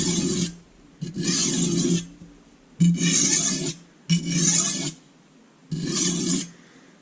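Chipped kitchen knife drawn across a bench stone, five distinct rasping strokes separated by short pauses, close and clear with no talking.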